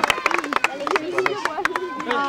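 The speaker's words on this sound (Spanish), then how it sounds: "Un aplauso para él." Brief applause and scattered clapping from a small group cheering a challenge winner, sharp hand claps mixed with babble and a voice talking over them, close and lively.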